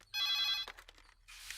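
A telephone bell rings in one short burst, followed by faint rustling and a soft hiss, with no voices heard.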